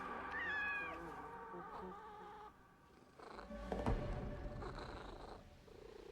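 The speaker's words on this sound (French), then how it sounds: "Un chat." A cat in the Assassin's Creed Mirage video game meows with rising, wavering cries near the start, followed by softer purring and mixed game ambience.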